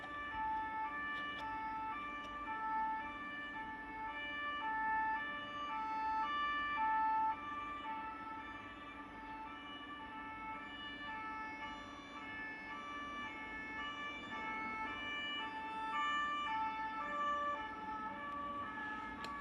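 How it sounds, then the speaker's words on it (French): A siren passing in the street outside an open window, its wailing tones steady and fairly faint at a distance, over low traffic rumble and room ambience. "Ah, il y a la sirène, ça faisait longtemps."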